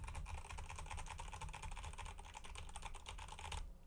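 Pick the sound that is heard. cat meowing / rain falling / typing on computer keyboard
typing on computer keyboard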